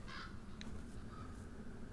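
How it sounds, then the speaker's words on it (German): Raven cawing in the video game The Last of Us: Left Behind, a short harsh call followed by a faint second note over a low game ambience. "Rabe kommt"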